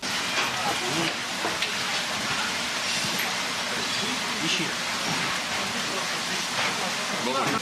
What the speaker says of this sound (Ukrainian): Пожежні заливали водою, осередки вогню